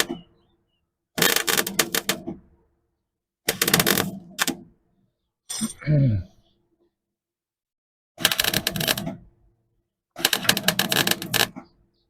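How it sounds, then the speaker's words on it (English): A welder builds up welds on the thin metal of a 1933 Chevy rear fender. Five close, loud bursts of crackling buzz last about one second each and are separated by pauses. A short clank falls between them. "The metal's thin. Just building up the welding."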